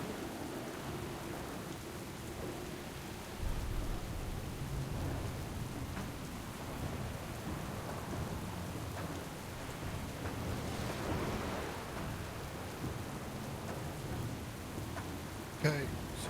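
A stormy sea in World of Warcraft, with steady rain hissing over low rumbling thunder that holds throughout at a constant level, plus a brief sharp crack near the end.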